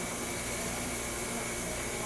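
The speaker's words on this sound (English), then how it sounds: "The vacuum sucks the rhinestone into the top of the gauge." A vacuum on a rhinestone-setting machine in a New York embroidery factory gives a constant loud whooshing suction hiss with a steady high whine, filling the whole stretch with no break.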